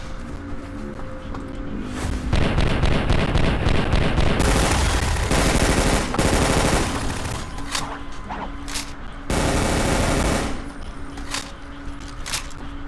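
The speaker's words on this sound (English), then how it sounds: "Probably should use a SMG" SMG gunfire in the Half-Life Overcharged mod, long rapid automatic bursts fighting military enemies, loud and dense, with short pauses between volleys and brief clanking in between.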